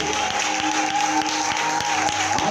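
A church congregation at a worship conference applauds God together, dense and steady clapping filling the hall without a break, with a sustained tone and faint voices mixed in.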